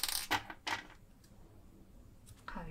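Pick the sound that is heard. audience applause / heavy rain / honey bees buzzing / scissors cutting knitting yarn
scissors cutting knitting yarn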